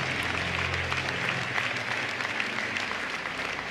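A church congregation gives a steady round of applause, a dense, sustained patter of many hands clapping at moderate distance without letup.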